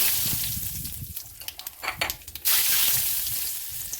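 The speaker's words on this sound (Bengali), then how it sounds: "এবার ওই তেলের উপরে আমি কালো জিরে দিয়ে দেবো" Nigella seeds dropped into hot oil for a hilsa curry, a loud close crackle and sizzle that swells into a bright burst midway and keeps frying steadily.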